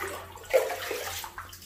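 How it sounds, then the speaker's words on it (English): Water is poured by hand into a squat toilet to flush it at a Thai temple in Ubon Ratchathani, a short close splash and gush lasting under two seconds. "You've got to manually flush the toilet."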